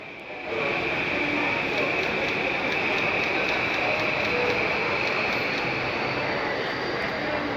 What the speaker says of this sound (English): Just departing here is a Yamanote Line train in the direction of Tokyo and Ueno.